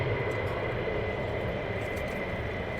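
Eurofighter Typhoon jet at RAF Lakenheath during surge operations, a steady broadband roar held at an even level throughout, with no clear rise or fade.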